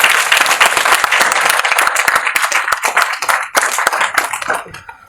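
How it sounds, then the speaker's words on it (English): An audience at a cancer panel discussion applauds loudly and continuously, dense close clapping that holds steady for several seconds before tapering near the end. "A big applause to all."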